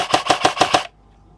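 A King Arms M4 airsoft rifle fires five quick, evenly spaced mechanical shots at close range, then falls silent.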